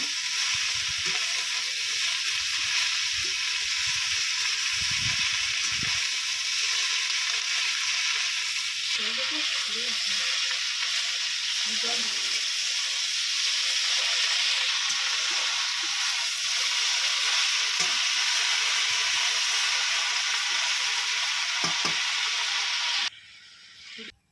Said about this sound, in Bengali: এবারে নেড়ে চেড়ে একটু আলু আর চিংড়ি আর শাকে খুব সুন্দর করে মিশিয়ে নেব।